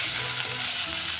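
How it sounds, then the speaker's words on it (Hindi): Vegetables for poha fry in a pan, a loud, dense, continuous sizzle close up with no talking over it. "अब हम थोड़ा सा सब्जियों को कुक करेंगे"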